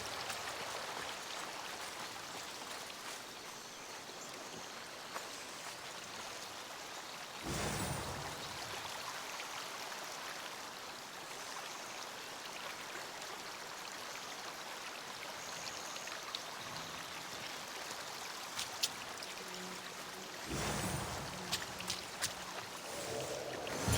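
A gentle stream flows steadily near herbs in Assassin's Creed Odyssey, a faint continuous trickle with occasional soft splashes and brief louder bursts.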